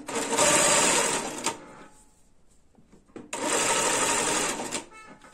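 A Janome sewing machine stitches around a handmade bag in two loud, steady runs with a quieter pause between them.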